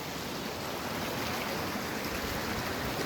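Clear water tumbles down a waterfall at Panjpeer Rocks, a steady broadband rush of flowing water at moderate level, continuous and unbroken, with no voices.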